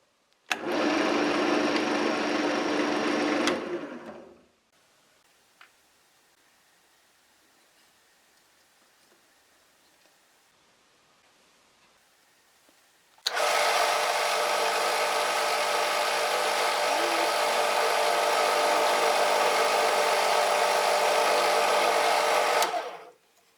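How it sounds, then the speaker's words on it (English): A power drill with a 2 mm bit whines loudly and steadily as it bores into a wooden bead, running in two bursts: a short one, a quiet pause, then a long continuous run at close range. "I'm going to try with the 2 millimeter drill bit."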